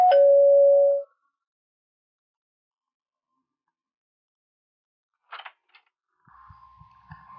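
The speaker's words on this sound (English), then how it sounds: "said Ma as the doorbell rang" A doorbell rings once at the start with a single sustained electronic chime, followed by a long silence and then a few faint clicks and small rattles near the end.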